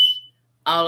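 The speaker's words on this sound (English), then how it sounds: "sorry, that's our smoke alarm." A shrill electronic smoke alarm chirps once, followed by a brief silence before a person starts speaking.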